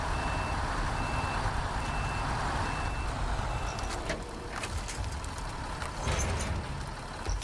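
A truck in the Snowrunner video game backs up with a steady, evenly spaced reversing beep over a low engine rumble, followed by a few mechanical clunks and knocks.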